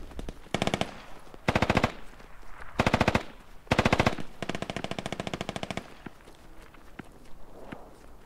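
Automatic gunfire from the Squad tactical shooter, coming in four short bursts and then one longer sustained string, with footsteps and ambient battlefield noise between and after the shots.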